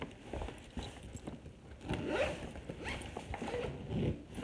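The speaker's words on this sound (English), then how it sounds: "And I zip it up." Zipper on a lacrosse bag being pulled closed, a steady close-up rasping zip running a few seconds, moderately loud and alone.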